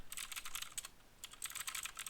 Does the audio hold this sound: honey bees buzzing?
no